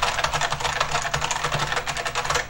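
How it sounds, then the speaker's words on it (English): Rapid, clacky typing on a heavy IBM Model M mechanical keyboard, a dense stream of loud keystrokes close up with no talking. "you bet it was a Model M keyboard that sounded just like this"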